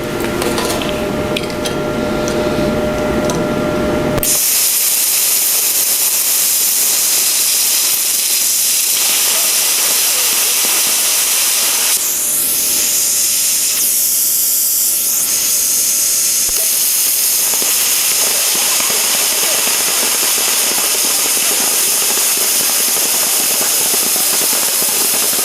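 Plasma cutter slicing through 1/4 inch thick aluminum, a loud continuous hiss and roar that holds for the whole stretch, with a sharper burst at the start and brief shifts in tone partway through.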